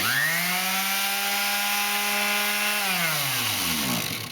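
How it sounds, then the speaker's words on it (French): An electric sander hums with a steady motor whine and gritty rubbing, then winds down as the motor slows to a stop. "Donc, ça aussi, on peut le faire avec la ponceuse."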